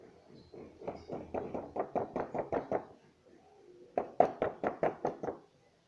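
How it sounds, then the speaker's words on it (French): Knocking on a wooden door in a read-aloud telling of Little Red Riding Hood, as the wolf arrives at grandmother's house: a rapid run of about a dozen knocks, a pause, then a second louder burst of knocks. "Il frappa à la porte."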